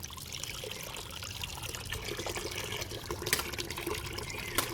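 Tap water pours steadily for rinsing hand-washed clothes, a close, continuous trickling stream with a few brief clinks and splashes and no talk.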